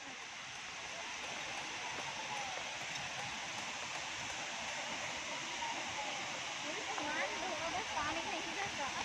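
The Areeckal waterfall in Kerala gives a steady, dense rush of falling water that fills the whole stretch at a moderate distance. Faint voices can be heard now and then behind the rushing.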